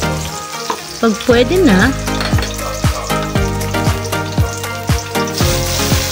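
Onions sauté in hot cooking oil for ginisang ampalaya with egg, a continuous sizzle and crackle running under background music with a steady beat, plus a brief spoken phrase.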